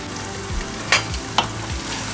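Mushrooms frying in a pan with a constant close sizzle, broken by a couple of brief scraping strokes as they are stirred with a wooden spatula.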